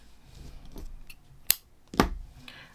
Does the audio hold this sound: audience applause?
no